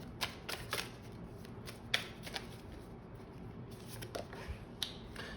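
Tarot cards are shuffled by hand in short crisp riffling bursts and flicks, faint and close, separated by soft pauses, with no voices.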